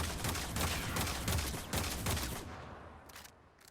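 A Seer pistol fired through a full clip in the Warframe video game, a steady string of loud, closely spaced shots that tails off into fading echoes near the end.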